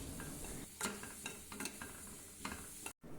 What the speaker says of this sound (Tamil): இஞ்சி பூண்டு விழுது சேர்த்துக்கோங்க.